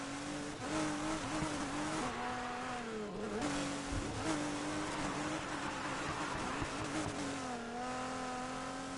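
Race car engine in the video game Need for Speed Heat, held at high revs while drifting, a loud continuous wavering drone with pitch dips and tire noise throughout.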